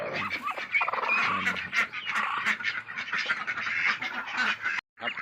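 A dense flock of Muscovy ducks quacking nonstop, close by, with calls overlapping into a busy, continuous chorus that breaks off briefly near the end.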